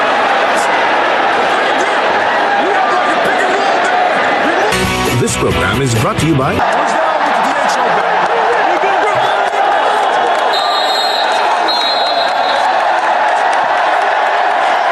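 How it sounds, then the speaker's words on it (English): A big Philippine crowd of Gilas Pilipinas fans roars and cheers at a basketball game against Saudi Arabia, a loud continuous arena din with a brief burst of noise, while a commentator talks over it. "listen to that crowd roar"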